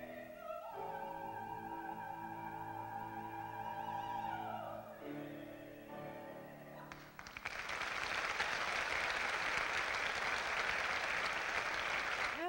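An opera legend holds sustained sung notes, then a large audience bursts into loud, continuous standing applause that fills the hall.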